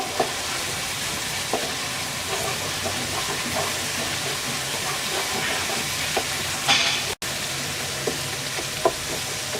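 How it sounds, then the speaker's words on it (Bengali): Spices with coriander powder and chilli powder being fried in a pan for a lime-leaf khesari dal, a steady close sizzle with scattered stirring scrapes and one brief louder clatter, no voices. "এক চা চামচ ধনিয়ার গুঁড়া মশলাটাকে কিছুক্ষণ কষিয়ে নেব"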